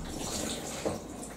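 Leftover water tipped out of the detergent drawer of a Fisher & Paykel WD8060P1 washer dryer, a brief close splashing pour of liquid lasting about a second.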